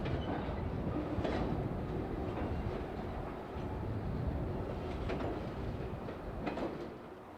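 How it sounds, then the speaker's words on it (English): A CSX freight train rolls through an urban rail yard in steady, moderately distant rumble, with faint wheel clicks and squeals surfacing now and then; no voices. "With their train on the move,"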